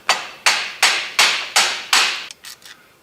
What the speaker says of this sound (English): we're going to go ahead and hit it with the screwdriver